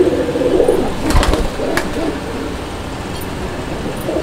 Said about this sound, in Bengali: তো আসলে এই কবুতরটা যে কি পরিমাণ ডাকে